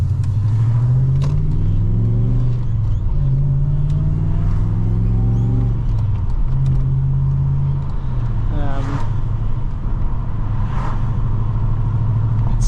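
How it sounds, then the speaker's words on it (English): Manual V8 exhaust of an HSV VS Manta while driving, a steady low rumble that rises and falls through gear changes, with someone talking over it throughout. "even the exhaust, like, yeah, it sounds great, but it's not too loud"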